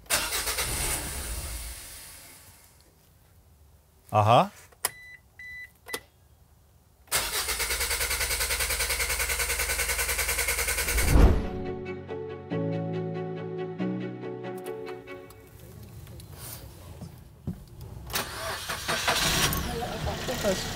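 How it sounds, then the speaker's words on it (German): A broken-down car being restarted during a roadside breakdown call: the engine cranks, catches and settles into a steady running idle, with people talking briefly before and around it. "Ihr Auto läuft wieder."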